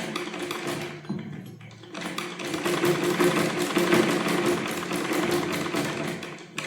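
A sewing machine runs in a steady, rapid mechanical chatter while stitching fabric. It pauses briefly near the start, then resumes and drives on continuously at close range.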